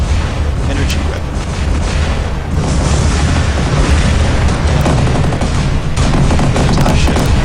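Futuristic energy weapon firing in a video game death match, a dense, loud, unbroken barrage of booming blasts and crackling bursts that fills the whole stretch without a pause.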